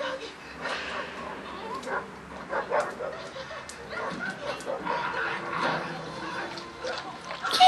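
A dog named as Eskimo, reacting while watching TV, yips, whimpers and barks in short bursts, fairly close, over a bed of background noise.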